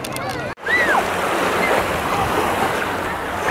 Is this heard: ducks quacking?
no